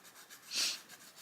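A single short sniff, close and quiet, breathy and centred in the upper range, rising and fading within about half a second against a soft room background while someone works on a colouring book.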